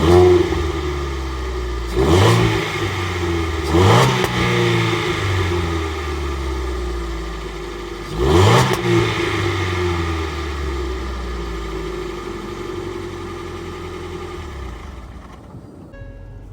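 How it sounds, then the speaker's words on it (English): A Ford Fiesta engine starts and revs up in three sharp bursts, then settles into a steady idle with a rumbling exhaust note, close and loud with no talking. "Let's power this thing up and let me get you an exhaust note."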